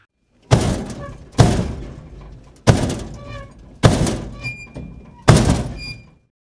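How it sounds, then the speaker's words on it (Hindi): Five loud, evenly spaced knocks on a window ring out one after another, each with a short fading resonance, with nothing else around them. "उसकी खिड़की पर कोई थपथपा रहा था।"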